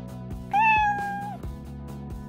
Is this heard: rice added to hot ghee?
no